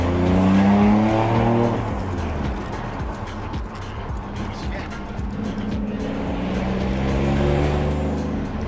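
A 500 HP rear-wheel-drive Toyota Chaser with a 1JZ engine and limited-slip differential revs loudly nearby, its pitch climbing and dropping in repeated sweeps.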